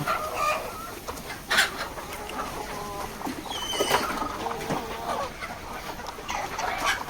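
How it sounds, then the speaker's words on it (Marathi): Egg-laying hens on a poultry farm cluck steadily while feeding, their overlapping calls rising and falling close by with a few louder squawks and no talking. "या अंड्यावाल्या कोंबड्या आहेत तिथं"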